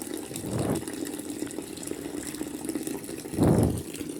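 Aquarium water from a molly fish tank is drawn out through a pipe, a steady low trickling flow with two fuller gurgling surges, close and moderately quiet, with no voices.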